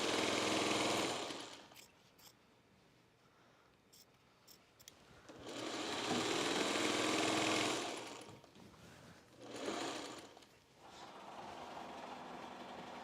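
A 301 sewing machine stitches jelly roll fabric strips in long steady runs of loud, close whirring, stopping and starting several times, with no talk over it.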